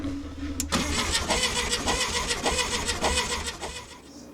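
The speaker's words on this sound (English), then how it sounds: "I'm willing to bet we're gonna hear something when you turn it over." A Volkswagen Beetle engine cranks and catches, then runs with a steady mid-pitched rumble, close and loud, with no voices.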